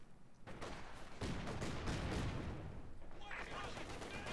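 Heavy machine gun fire rattles through a Company of Heroes 2 battle, a sustained dense burst that swells after the first second and rolls on amid other combat noise, with a voice talking over it.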